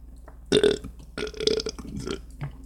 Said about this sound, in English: That's why I burp a lot because I suffer from fucking heartburn